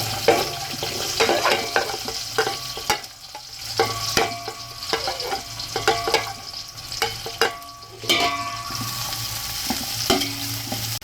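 Two medium onions fry in a pot on the way to light brown for beef keema pulao, a steady close sizzle broken by repeated scraping stirs with no talking.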